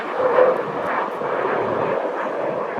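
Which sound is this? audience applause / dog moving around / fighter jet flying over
fighter jet flying over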